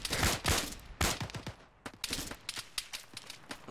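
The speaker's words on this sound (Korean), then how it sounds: "야 저 나무 뒤에서 쏜다." Gunfire in the military video game Arma 3, sharp shots cracking out irregularly in a scattered firefight, several loud bursts early then quicker, fainter rounds trading back and forth.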